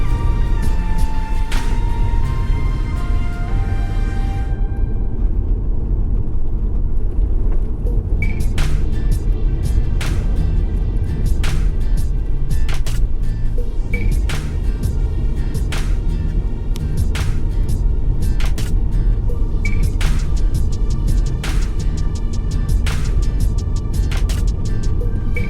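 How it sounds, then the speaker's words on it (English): A car cruises along the A2 road in Clarendon, Jamaica, with a constant loud road and engine roar heard from inside the cabin and repeated sharp ticks and clicks recurring over it. "So we are driving on A2, guys."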